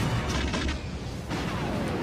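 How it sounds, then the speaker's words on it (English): Booming, Star Wars prequel-style explosions from The Mandalorian Chapter 17, "The Apostate," a loud rumbling blast with a second burst partway through, alone without talk. "Those were some prequel trilogy explosion sounds right there."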